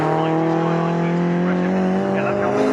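A classic race car at the Snetterton circuit, in a Future Classics series race, roars past loud and close, its engine note steady and dense all the way through.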